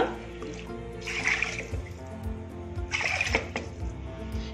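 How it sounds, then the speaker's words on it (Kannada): Water poured from a glass onto soaked rice in a pot, two distinct splashing pours separated by a pause, close and moderately loud over a faint background hum, no talking. "ಈಗ ಕರೆಕ್ಟಾಗಿ ಮೂರು ಮುಕ್ಕಾಲು ಎರಡು ಗ್ಲಾಸ್ಗೆ ಮೂರು ಮುಕ್ಕಾಲು ಆಗೋ ಅಷ್ಟು ನೀರನ್ನ ಹಾಕ್ತಾ ಇದ್ದೀನಿ"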